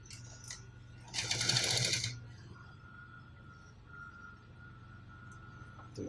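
A sewing machine stitches a trouser overlap in a single loud, rapid mechanical burst of about a second, set against quiet room hum.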